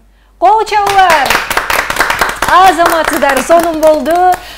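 An audience claps in sharp, close bursts at a stage show with singers and musicians, the claps sounding over a prominent voice that sings and speaks throughout.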